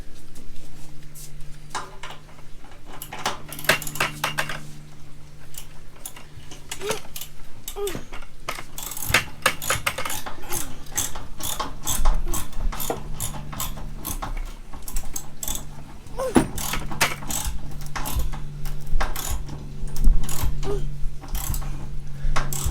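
A ratchet drives a lag screw into wood during deck wall-panel work, giving a steady run of rapid, close metallic clicks in repeated bursts with brief pauses.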